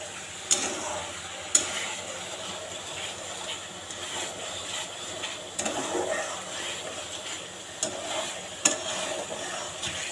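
Spices frying in oil in a pan over low heat while being stirred slowly, a soft continuous sizzle broken by occasional sharp clicks and scrapes of the spoon against the pan.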